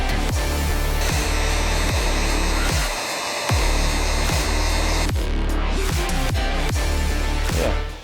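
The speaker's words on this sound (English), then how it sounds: "blast it with the heat gun for about 30 seconds" A heat gun blows steadily on adhesive, a loud continuous whooshing hiss with a hum beneath it and a series of light clicks and taps running through it.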